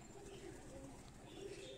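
Breeder pigeons coo softly in a low, steady, continuous murmur of overlapping calls throughout, with no talking.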